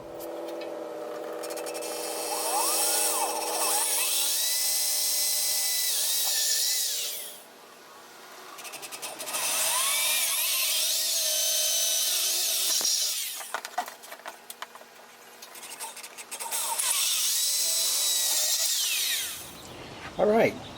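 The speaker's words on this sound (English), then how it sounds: "I just had to drill 2 other holes to mount this in there" A power drill bores mounting holes in a car radiator, its loud motor whine rising and falling across three long bursts with short pauses between.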